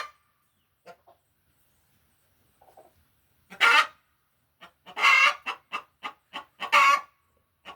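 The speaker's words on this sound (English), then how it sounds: "Oh, you're so noisy. How many squawks do you have to make?" Newly added chickens squawk in loud, harsh bursts from close by, with a few scattered sharp calls leading into a dense cluster of repeated squawks and quiet gaps between.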